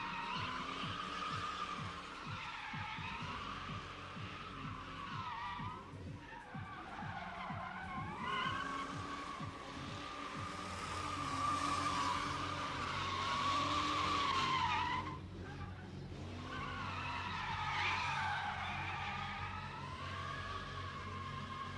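A truck drifts around a dirt berm at a stunt show, its tires skidding and squealing while the engine revs rise and fall in long, loud sweeps, with a steady rumble underneath.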